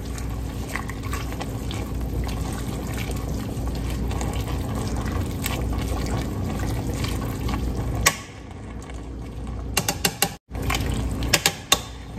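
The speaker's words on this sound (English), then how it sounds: "So I'm gonna get this mixed up really well here." Collard greens being stirred with bacon seasoning in a pot, a continuous wet, rustling churn with clinks of the utensil against the pot, then brief pauses and a few knocks near the end.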